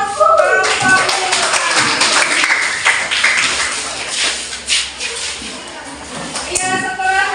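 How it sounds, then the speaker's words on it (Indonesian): Students in a classroom applauding, a burst of many hands clapping that swells and then tapers off, with voices talking over and around it. "beri aplaus dulu langsung kalau tahu"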